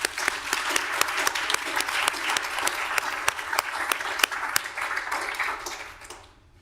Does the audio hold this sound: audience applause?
yes